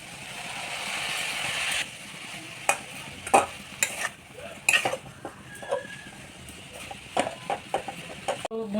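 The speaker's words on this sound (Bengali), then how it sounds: "বাকি দুধটা আমি তো এর মধ্যে দিয়ে দেব" Milk goes into vermicelli for Eid lachha semai and is stirred in a pan, a hissing pour at first, then scattered spoon scrapes and clinks against metal, close and fairly quiet.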